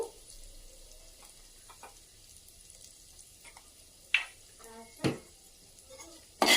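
Cumin, mustard seeds and turmeric stirred in a hot pan: a faint, steady sizzle with a few sharp scrapes and clinks of a spoon against the pan near the end, close and otherwise quiet.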